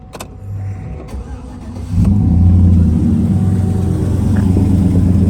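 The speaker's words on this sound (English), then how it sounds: "I'm going to start it up." A 2009 Chevrolet Silverado 1500 pickup engine cranks and catches after a couple of seconds, settling into a steady low idle close by; no voices.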